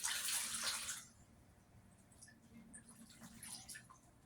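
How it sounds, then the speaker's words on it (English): Running water rinses craft paint off hands, a loud steady splash under a tap for the first second, then fading to faint drips and light trickles with occasional small splashes. "I'm gonna wash this off my hands."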